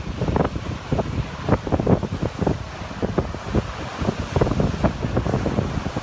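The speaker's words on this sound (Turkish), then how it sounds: "kuvvetli rüzgarda denizde dalgalar oluştu" Strong wind buffets the microphone while sea waves crash and surge repeatedly against the shore, loud and close, with no voices.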